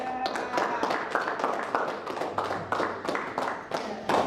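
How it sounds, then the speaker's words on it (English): Guests at a wedding applaud the bride, a dense, steady patter of many hands clapping at moderate distance, sustained without a break and with only faint voices underneath. "You can give her a round of applause."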